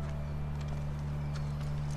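Hooves clip-clop steadily in The Last of Us video game, sitting under a constant low hum and dense background noise, with no clear talking.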